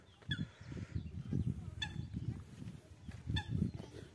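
Repeated short honking quacks from small ducks over a low, busy rumble of outdoor background noise in Keoladeo National Park, a few calls spaced across the clip.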